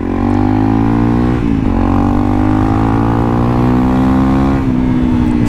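A modified Honda CRF 300L motorcycle engine runs loud and close for the whole stretch, a steady throaty drone with a slight rev dip and recovery partway through, no voices over it.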